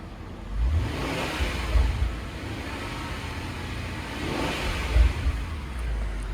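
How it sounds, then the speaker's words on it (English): A 2006 Jaguar XK8 4.2 S coupe engine idles at low volume with a couple of gentle revs rising and falling, nearby and without talk. "Let's just give her a little bit of a rev"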